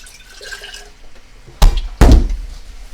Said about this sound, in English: So I'm going to take some triple filtered water with my zero water filter here.